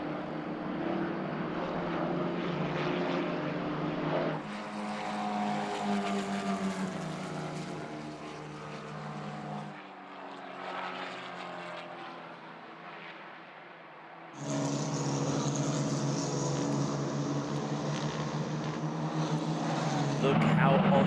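Formula 4 race cars on the Red Bull Ring, engines droning steadily at high revs as they pass, with the tone shifting abruptly between cars and a brief lull before a louder car comes through.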